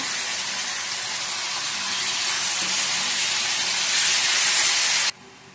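Chicken and onions fry in a pan with a loud, steady sizzling hiss that builds slightly over several seconds, then cuts off abruptly near the end, leaving a quieter background.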